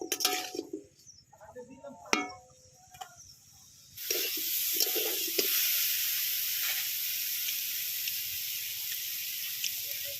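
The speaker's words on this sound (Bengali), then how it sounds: "এবার কলাগুলো আমি হালকা করে ভেজে নেব 1-2 মিনিট ধরে।" Bananas frying lightly in a pan for a curry with drumstick stalks and pomfret fish, a steady loud sizzle that starts abruptly and keeps on, after a few seconds of quieter clattering and brief voice sounds.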